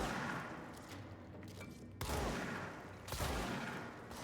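Gunfire from the shape-shifting service weapon in the video game Control, with sharp broadband blasts at about two and three seconds over a continuous low rumbling background, loud and close, with no one talking.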